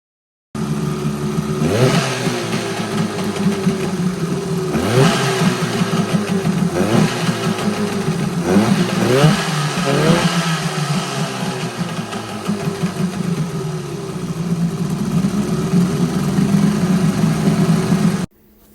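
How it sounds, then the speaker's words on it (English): Small motor running after a carburetor rebuild, loud and close, with a steady idle broken by several quick throttle blips and revs before it cuts off abruptly at the end. "here is the motor running"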